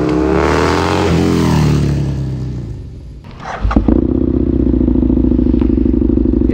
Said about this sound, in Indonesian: Ini suara keras banget gara-gara knalpotnya baru aja diganti.